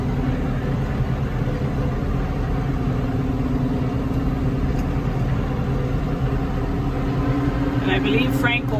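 A tractor engine runs in a steady, continuous drone during a ride, loud and constant throughout, with a brief higher chirp near the end.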